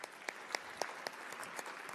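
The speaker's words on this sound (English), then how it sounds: "I just want to give our speakers one more round of applause." Steady audience applause at a panel discussion event, dense clapping throughout with a few sharper claps standing out, no voices over it.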